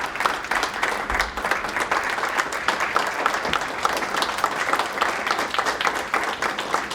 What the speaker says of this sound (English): join me giving Jamie a big round of applause